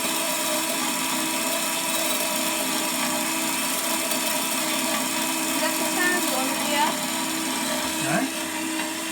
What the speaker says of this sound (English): It's the sound of it cutting through,